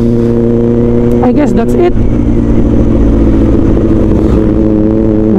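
A 2024 Kawasaki Ninja ZX-4RR motorcycle with an Austen Racing muffler idles loud and close, then rises in a quick pair of sharp revs before settling back to a steady hum, with someone speaking briefly over it.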